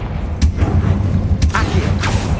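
A Confringo spell blast fired in the Hogwarts Legacy video game, heard as a few sharp explosive bursts spaced about a second apart over a steady rumbling background.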